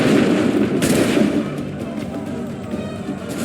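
A loud musket volley bursts out at once in Assassin's Creed 3, a heavy crackling blast that fades into rumbling battlefield noise.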